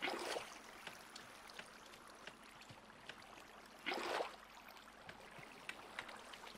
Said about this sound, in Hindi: तभी एक काम करते हैं यहाँ से पानी उठा लेते हैं